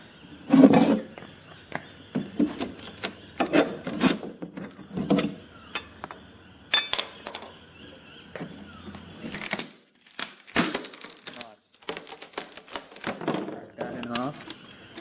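A cardboard box holding a transmission jack stand being cut and torn open, with crinkly rips and scraping bursts in an irregular rhythm, close by, while someone talks intermittently over it.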